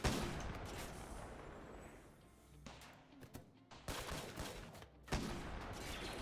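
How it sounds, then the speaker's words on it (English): Blaster gunshots fire in a RimWorld battle. Dense, noisy bursts of overlapping shots come in rapid, uneven volleys, with a brief lull in the middle, and stay fairly quiet overall. "she has her blaster. Taking some shots as she makes her way back."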